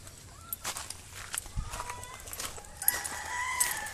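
Chickens and turkeys cluck and crow in a busy farmyard, several birds calling at once over steady background noise.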